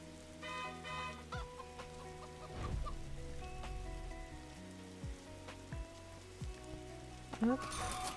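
Chickens cluck on a farm in a French-language farming video game, steady game music and small chimes playing beneath them, with an interface pop near the end.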